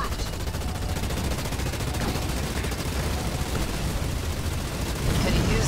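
Rapid gunfire from ground troops in a Halo-style battle as a carrier base comes under attack, with dense, continuous volleys filling the scene.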